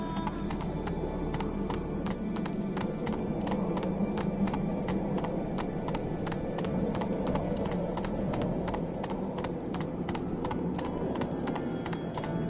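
Roach, the horse in The Witcher 3 on PS5, clip-clops along in a steady, even rhythm of hoofbeats that continues throughout, over a constant low background rumble.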